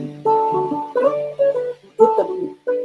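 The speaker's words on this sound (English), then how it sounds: "And with that, I can do a stop bass sound like this" Muted stop-bass notes are thumbed on an acoustic guitar over the sound hole, a short, dull, damped line of separate plucks with brief gaps between them.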